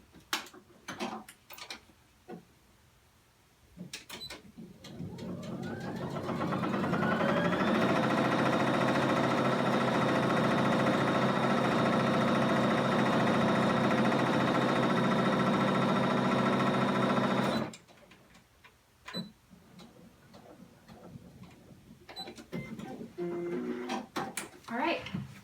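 A domestic sewing machine stitches along the bottom edge of a toddler-size pillowcase, running steadily for about thirteen seconds, with handling noises and brief speech before and after.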